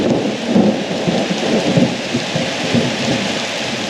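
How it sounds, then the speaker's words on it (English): A tropical afternoon thunderstorm in Guatemala brings steady heavy rain hissing on surfaces, with deep thunder rumbling and rolling beneath it, loud and continuous. "Lightning, thunder."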